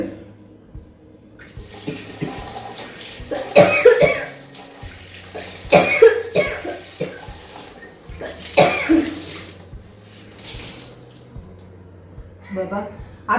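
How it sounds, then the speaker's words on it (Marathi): A person has a sudden coughing fit: several harsh bursts of coughing and throat clearing come in clusters, with water running faintly in the background. "अचानकच ठसका येतो"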